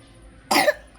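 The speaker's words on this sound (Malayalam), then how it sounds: "അയ്യോ ചുമണ്ടോ?" A child gives one short, sharp cough close by, quiet before and after.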